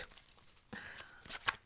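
A deck of tarot cards is shuffled by hand, with quick papery flicks and soft riffling bursts that come in uneven clusters, close and fairly quiet, with no one talking.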